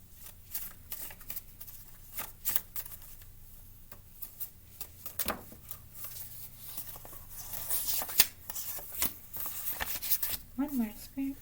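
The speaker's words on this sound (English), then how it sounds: "Messing with the cards." Tarot cards being shuffled and handled up close, soft riffling flicks and slaps in irregular bursts, quiet and under a person's speech.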